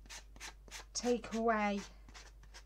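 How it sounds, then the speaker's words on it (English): A wooden spoon is hand-sanded gently with a sanding block, giving soft, close, scratchy rubbing strokes that come in short rhythmic bursts while a person talks over the middle. "sanding block"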